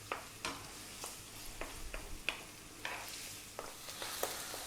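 Onion and garlic fry in a pan over medium heat, a low steady sizzle broken by a series of scattered, sharp clicks and scrapes from stirring.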